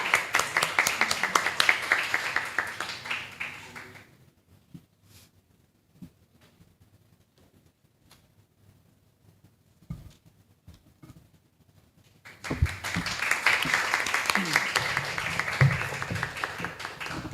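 An audience applauds at a national public-procurement arbitration essay contest awards ceremony, dense clapping for about four seconds, then a quiet stretch with scattered claps, then a second strong burst of applause.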